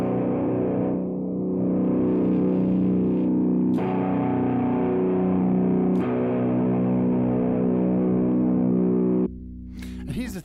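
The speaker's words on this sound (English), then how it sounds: "That was some pretty extreme guitar noise there." A sustained, heavily distorted electric guitar drone buzzes loudly for about nine seconds, then cuts off into a short burst of noise.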